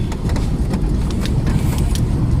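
Cars move along a busy hill-station road in Kodaikanal, with a loud, steady rumble of engines and road noise close by and faint rattles on top.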